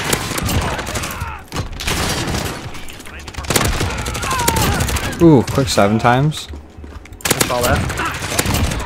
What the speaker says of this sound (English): These Dragonfire rounds are a bitch.